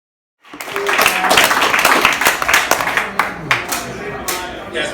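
Audience applause for Anarchist Black Shield at a Portland May Day 2017 gathering, a burst of clapping that starts abruptly after a short silence, stays dense for a few seconds, then thins into scattered claps.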